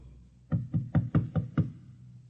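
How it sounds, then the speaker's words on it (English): Six evenly spaced knocks on a door, firm and close, rap in a steady rhythm over a quiet room, with no voices. "And then there was a knock on the door."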